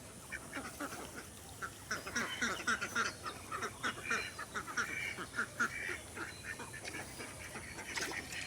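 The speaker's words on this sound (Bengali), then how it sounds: "8টা পুরুষ হাঁস।" Farm ducks, among them eight drakes with geese kept close by, quack in quick irregular bursts at middle distance, the calls clustering and overlapping in a lively chorus that carries on to the end.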